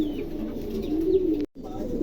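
A pair of Modena pigeons coo in soft, low throaty warbles close by, a brief rolling call with a short gap near the end.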